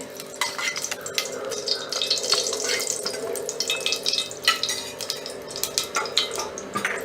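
Two spoons of ghee go into a hot pan for a coconut sweet rice dish, sizzling and crackling close up with busy stirring and scraping clatter.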